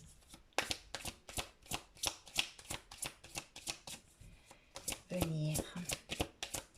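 Oracle cards shuffled by hand in quick, crisp riffling bursts close to the microphone, with someone talking softly in French throughout.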